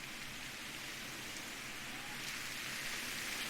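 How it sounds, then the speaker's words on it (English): Steady rain falls in the video game Perseverance, a soft even hiss of drops on surfaces, quiet and continuous with no voices. "It's raining, I guess."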